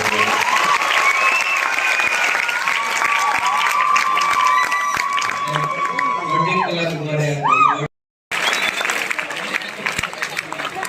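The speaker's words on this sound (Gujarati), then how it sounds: "એકવાર જોરદાર તાળીઓ આપણે સંજયભાઈ." Audience applause and cheering at a motivational speech event in Bhuj, a dense sustained clatter of clapping with shouts and whoops over a speaker's voice, cutting out briefly near the end before resuming.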